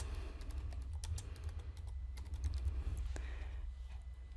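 Keys tapped on a computer keyboard in quick, irregular bursts of soft clicks, fairly quiet and close, with no one speaking.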